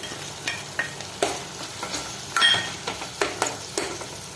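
Tomato with turmeric powder sautéing in a pan, with a soft steady sizzle broken by repeated scraping stirs and a few light metallic clinks, close and fairly quiet, no voices.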